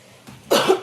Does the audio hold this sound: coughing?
yes